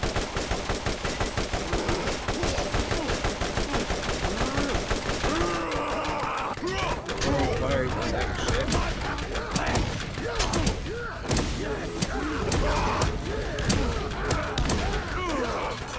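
Automatic and rapid gunfire from a Borderlands shooter game rattles in dense, loud bursts throughout, with game sound effects and players talking over it.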